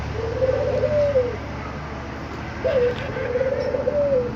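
Khumra pigeons at a Sunday bird market give two close, loud, rolling coos, each about a second long and separated by a brief pause, over a steady low background hum.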